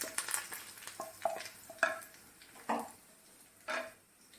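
Hot oil tempering with fried onion and curry leaves poured into a home-cooked okra and tomato curry, giving a few bursts of crackling sizzle with soft clatter between them, close by and fairly quiet.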